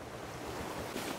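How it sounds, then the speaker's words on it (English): Choppy ocean waves in the survival game Raft wash and churn in a continuous, moderately loud roar of surf with a windy hiss, no voices over it. "these waves are choppy, bro"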